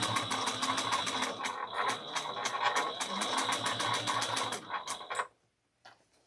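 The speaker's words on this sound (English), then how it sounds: "I'm going to sew around this at 1/4 of an inch" A sewing machine stitches a backpack seam at a quarter-inch allowance, running steadily and fairly close for about five seconds with a fast repeating needle rhythm, then stopping abruptly into near silence.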